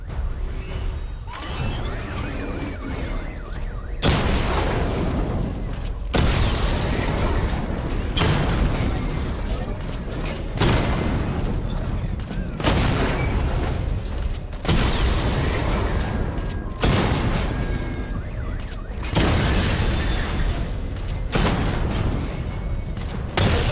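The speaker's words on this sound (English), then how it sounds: "Charge the missile barrage to level 2 to destroy up to 4 targets at once." Loud, rapid series of explosions from the Batmobile's missile barrage in the Arkham Knight video game, with bursts of blasts and crashing debris repeating every few seconds against a constant rumbling mechanical bed.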